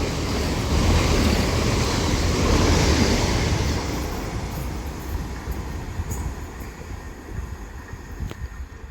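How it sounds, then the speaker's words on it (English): Two coupled Chiltern Railways Class 168 diesel units pass through High Wycombe station. They make a loud, sustained roar and rush that gradually fades, with faint clicks and squeals near the end. "that double-headed Chiltern Railways Class 168 passes through High Wycombe now with the 10:40 Chiltern Railway service to London Marylebone from Birmingham Snow Hill"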